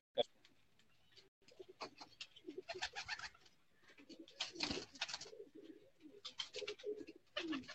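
Home-bred type 41 pigeons coo in soft, throaty rolls at close range, the calls coming in uneven clusters with light rustling between them.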